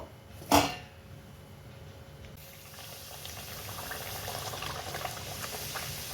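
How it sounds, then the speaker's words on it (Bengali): Dal puri made with chana dal frying in hot oil, a steady soft bubbling and crackle that builds gradually after a brief splash near the start, with no talking. "এরকম লাল লাল করে ভেজে নিতে হবে"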